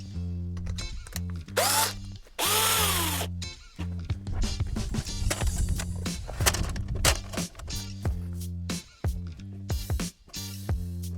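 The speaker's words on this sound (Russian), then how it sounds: "сейчас просверлю отверстие вверху и буду запускать кабель" Close power drill boring a hole with a 10 mm bit, the largest in a set, high above for a cable run in an old house: repeated whining bursts of motor, stopping and restarting in short pulses with clattering between.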